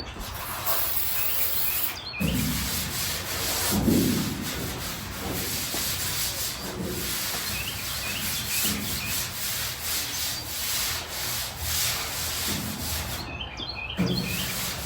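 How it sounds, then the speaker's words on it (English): Rag wiping down a car body before filler on a Midget, heard as repeated close rubbing strokes in an uneven rhythm, with birds chirping faintly in the background. "wipe it down clean, maybe do that twice, just to make sure everything is clean"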